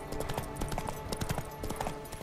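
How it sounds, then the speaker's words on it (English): Hooves clop in a steady rhythm as a horse is ridden in The Witcher 3, close and fairly loud over a light background bed. "we'll just ride this horse until we get there"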